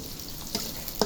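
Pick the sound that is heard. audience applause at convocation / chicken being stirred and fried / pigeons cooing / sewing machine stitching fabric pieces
chicken being stirred and fried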